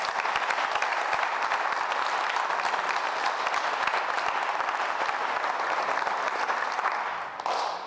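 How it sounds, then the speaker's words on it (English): A steady round of audience applause at an awards gathering, dense and even throughout before tapering slightly at the very end, with no talk over it. "if y'all would give them one more round of applause"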